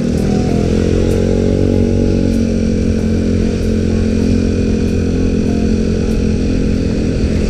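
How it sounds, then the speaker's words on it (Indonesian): Loud, steady engine drone from nearby motor traffic, with a motorcycle engine running close by throughout. "mobil-mobil lalu lalang seperti ini, motor segala macam."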